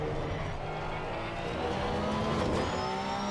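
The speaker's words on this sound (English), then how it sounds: "Use the acceleration of the Porsche." A Porsche 911 GT3 R racing at Monza in Assetto Corsa Competizione, its engine note climbing steadily under acceleration, with a voice talking over it.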